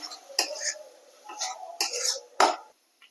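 A spoon stirring ground spices with a little water in a pan, heard as a few close, sparse scrapes and metallic clinks separated by quiet, ending in one faint tap.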